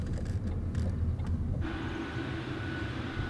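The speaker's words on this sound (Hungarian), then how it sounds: "Most megy a vonat." A passing train rumbles steadily with a low, continuous roar, loud and close, carrying on with no talking over it.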